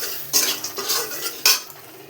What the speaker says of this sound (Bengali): এখন আমি ডালের বড়িটা ঢেলে দিচ্ছি